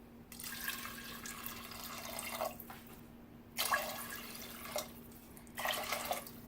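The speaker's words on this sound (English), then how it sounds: "and now we will add water." Water is poured from a tap into a pot of red kidney beans for rajma, in several rushing bursts with short pauses between, close and moderately loud over a faint steady hum.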